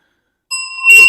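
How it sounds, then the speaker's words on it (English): A bell taken from the center circle of Highbury is struck once, giving a clear, pure ringing tone that is quickly swamped by a burst of louder noise. "American podcaster ringing a bell at the center of Highbury"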